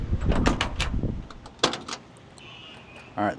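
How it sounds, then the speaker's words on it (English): The door of a 1970 Mustang Mach 1 428CJ R-Code opens with a few close mechanical clicks and a latch thunk, then a sharp clunk, a faint hum and a final rattle, with no voices. "the door opens wonderfully"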